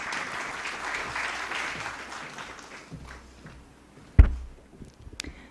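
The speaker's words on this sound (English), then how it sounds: "Can we have a round of applause for her?" Audience applause for a speaker at a listing ceremony for the Foundation to Educate Girls Globally, steady clapping that fades after about three seconds, followed by a sharp thump and a few scattered sounds.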